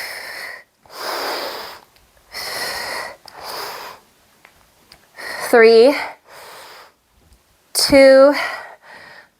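Heavy rhythmic breathing during a yoga sculpt workout, loud close exhales and inhales alternating with short spoken cues from the same person.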